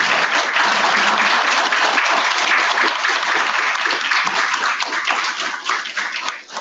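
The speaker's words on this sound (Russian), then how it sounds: "Ваши аплодисменты" Loud, dense applause from an audience at the opening of a university history faculty lecture hall named after a scholar, many hands clapping steadily for several seconds before thinning toward the end.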